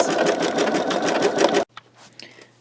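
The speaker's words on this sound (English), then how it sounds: "I'm going to go ahead and let this continue stitching out." An embroidery machine sews a sugar skull design in dark gray thread, a loud, busy, rhythmic needle clatter that stops abruptly partway through, leaving near silence with a faint click or two.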